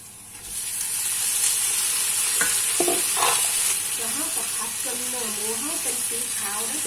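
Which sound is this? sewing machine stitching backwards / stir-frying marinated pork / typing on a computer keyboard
stir-frying marinated pork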